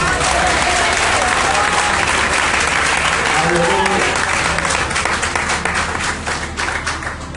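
A church congregation claps steadily and loudly during a Portuguese-language sermon at an Assembleia de Deus service, with a preacher's voice calling out over the dense, continuous applause before it fades slightly at the end.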